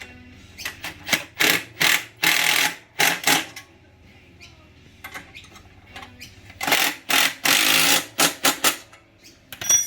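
A power tool drives and tightens bolts while fitting a Catch Pro grass catcher to a 2020 Scag Tiger Cat mower, with repeated short, loud bursts separated by brief pauses.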